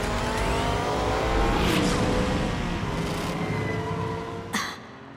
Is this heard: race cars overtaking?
yes